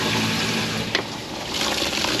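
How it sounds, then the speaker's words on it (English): An automatic bilge pump on a Hydro Sport center console boat discharges water overboard, making a steady, close, continuous gushing and splashing that holds throughout. "So it looks like our automatic bilge is pumping."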